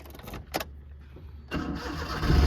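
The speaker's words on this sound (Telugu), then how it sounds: "ఇప్పుడైతే నేనైతే ఇంజన్ అయితే స్టార్ట్ చేస్తా" A car engine cranks briefly, then catches and starts, settling into a steady running rumble that grows slightly louder toward the end. No talking.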